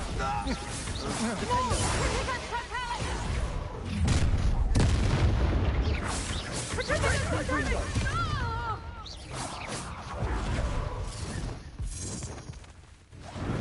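Spell blasts and fiery explosions burst repeatedly in Hogwarts Legacy combat, heavy booms and crashes layered with game music and a voice speaking throughout.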